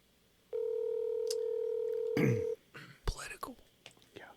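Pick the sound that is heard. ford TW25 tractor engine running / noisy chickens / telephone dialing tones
telephone dialing tones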